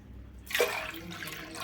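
Water splashes and pours into a pot of washed lentils after a quiet moment, a brief gurgling rush that continues softly.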